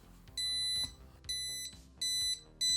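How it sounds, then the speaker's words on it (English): A small passive electronic buzzer on an ESP32-CAM obstacle detector beeps four times in a steady on-off pattern, shrill and tonal, each beep lasting about half a second with short gaps. "when paired with a passive buzzer, it provides audible feedback"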